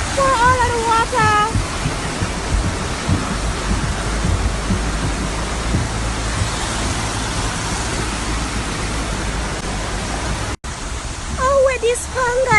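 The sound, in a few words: floodwater rushing down a road in Ocho Rios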